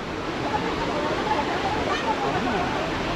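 A steady, loud roar of rushing water fills the scene continuously, like a waterfall pouring nearby, at a waterfall near Guna Cave in Kodaikanal.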